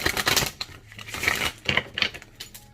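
Crisp papery clicks and riffling bursts of tarot cards being shuffled, in a few quick clusters close by, with no voices.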